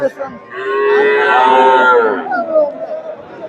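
A loud, close cow moo, long and drawn out, rising and then trailing off, with crowd chatter in the background, at a large cattle market in Sirajganj, Bangladesh.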